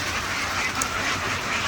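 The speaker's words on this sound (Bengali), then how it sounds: "হাঁসগুলো এখন পুকুরে নামবে" Ducks on their way to a pond quack under a continuous broadband background, the calls blending into a dense, steady texture at moderate distance.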